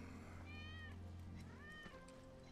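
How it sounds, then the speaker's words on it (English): Wedge's cat in Final Fantasy 7 Remake meows twice in quick succession, short and fairly faint, over a low steady ambient hum. "That's Wedge's cat."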